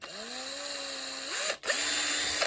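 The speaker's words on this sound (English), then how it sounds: "clear out the holes with a drill." A small 2mm drill whirs up to a steady high whine, dips briefly as it bites into springy plastic and clears a hole, then spins again, close and loud.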